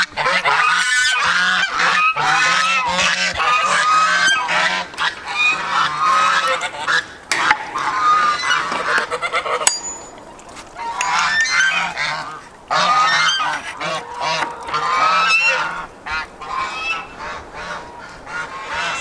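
Turkeys being moved from their coop to a hoop house, honking and gobbling loudly and nearly nonstop close by, several birds calling over one another with only brief lulls.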